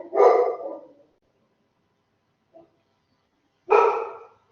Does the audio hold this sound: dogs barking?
yes